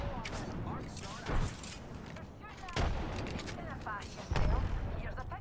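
Bursts of gunfire from the Apex Legends battle royale game, several loud volleys at close range with game effects and a player's voice talking over them.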